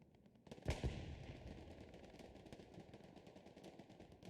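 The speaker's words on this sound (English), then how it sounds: "That MG42 can just, little bursts, and you just get 2 or 3 bullets right on target." A short burst of MG42 machine-gun fire from the Hell Let Loose shooter, a sharp crack near the start followed by a rattling, echoing tail under ongoing battlefield noise.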